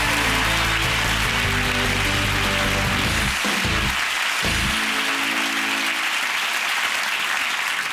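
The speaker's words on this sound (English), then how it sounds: "we'll have a round of applause for our guests for this evening" A studio audience at a comedy improv show claps for the evening's guests, loud sustained applause filling the whole stretch with steady crackling hands.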